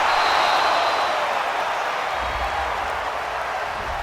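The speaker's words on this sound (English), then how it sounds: "This home crowd, they're happy with that call." Home football crowd in a stadium at a Falcons at Bucs game, cheering and applauding a referee's call: a broad, distant roar of voices and clapping that slowly fades.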